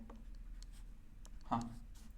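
A marker or chalk writes a plus sign on a board during a math lesson, a faint short stroke or two over a quiet room hum.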